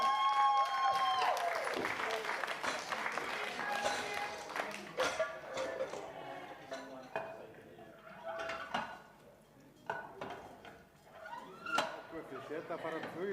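A crowd at an Icelandic powerlifting championship gives scattered applause for the bar loaders, fading over several seconds under an announcer's voice, with clanking from the plates and bar in between.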